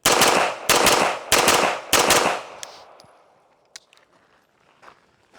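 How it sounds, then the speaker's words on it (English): Four rapid pistol shots fired at targets on a range, loud and close in a tight burst, each crack ringing briefly before fading into quieter ambient noise and a couple of faint clicks. "we are shooting all A-zone hits about as fast as we can pull the trigger"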